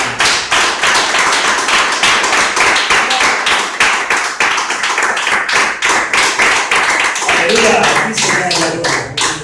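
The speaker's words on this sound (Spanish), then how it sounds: "vamos a darle un fuerte aplauso al Señor por esta vez" A church congregation claps loudly together in a fast, steady rhythm, close and dense, with a voice rising over the clapping near the end.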